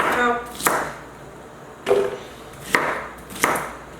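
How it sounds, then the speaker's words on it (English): A knife chops through onion on a cutting board in a few sharp, separate strikes, with short pauses between them, close and fairly quiet. "onion, same thing as a rough chop"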